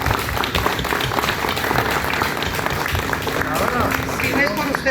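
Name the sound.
audience applauding themselves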